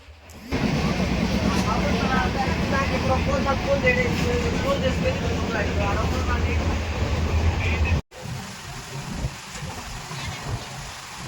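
A steady low rumble and rattle of a train carriage in motion, heard from inside with voices talking over it, then cutting to quieter background.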